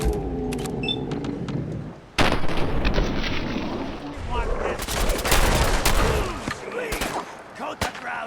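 Video game gunfire in Fallout 4, set in Far Harbor: sharp, loud shots and bursts crack in rapid clusters, some close and punchy, others more scattered, with a voice speaking over parts of the exchange.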